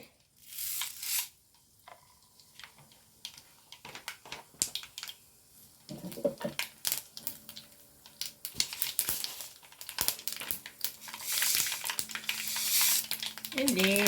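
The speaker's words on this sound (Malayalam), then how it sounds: "എണ്ണ ചൂടായിക്കുന്നു ഇതിലേക്ക് ഞാൻ കുറച്ച് കടുകിട്ട് കൊടുക്കുന്നുണ്ട്" Mustard seeds crackle and sizzle in hot oil while pickle is made, a steady frying hiss with sharp pops and bursts of stirring and clatter, close by and growing denser toward the end.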